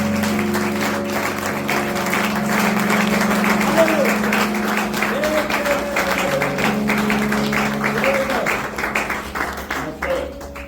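A congregation at a church ordination service applauds steadily and loudly for about ten seconds, with voices and sustained tones carrying under the clapping.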